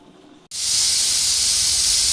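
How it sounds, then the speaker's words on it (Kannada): A pressure cooker of chicken biryani lets out a loud, sustained steam hiss that starts abruptly after a brief quiet moment and holds steady at close range. "ಒಂದು ವಿಷಲ್ ಹೊಡ್ಕೊಳ್ತೀನಿ"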